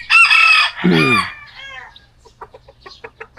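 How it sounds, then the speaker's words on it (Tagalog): A rooster crows loudly nearby, then hens cluck in short, scattered bursts that grow quieter. "Yung mga manok."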